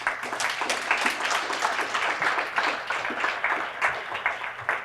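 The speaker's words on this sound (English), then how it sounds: "I think that deserves a round of applause" Applause from an audience at a city summer youth employment program event, a moderate, steady patter of clapping hands with no talk over it.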